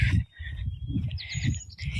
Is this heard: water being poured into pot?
no